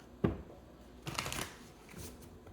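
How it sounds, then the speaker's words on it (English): Soft papery riffling of tarot cards being shuffled, a sharp tap followed by a longer flurry of shuffling, fairly close and quiet. "one more shuffle"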